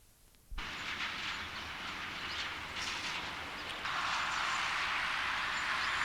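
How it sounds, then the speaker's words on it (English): A GBR freight train runs south through a station platform, a steady loud rumble and rail hiss starting suddenly and swelling slightly partway through as the wagons roll past close by. "The GBR freight heads south through platform 1."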